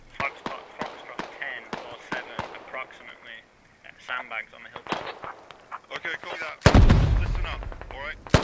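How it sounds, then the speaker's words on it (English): Smoke mortar rounds landing in the military shooter game Squad, with scattered sharp gunfire cracks and a heavy booming impact near the end, while players talk over the action. "Smoke mortars? Are those real?"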